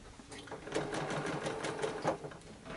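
A sewing machine steadily stitches quilt fabric with a quarter-inch foot, its needle running in a fast, even mechanical patter, close and moderately loud with no talk over it.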